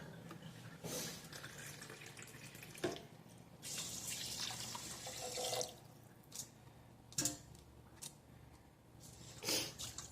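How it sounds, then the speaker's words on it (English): Rice being rinsed by hand in water at a kitchen sink, giving quiet running water, swishing and intermittent splashes with short bursts of louder pouring, fairly faint overall. "always wash your rice at home"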